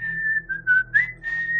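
A high, wavering whistled melody heard alone, the whistle attributed to the ghost of a brawl victim, rising and dipping in pitch in several phrases over a faint low hum.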